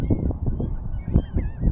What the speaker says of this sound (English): I am surrounded by birds